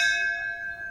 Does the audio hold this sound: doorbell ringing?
yes